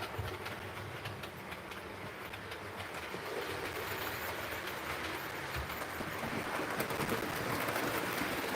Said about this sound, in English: There's a well-known locomotive, and it's about to come.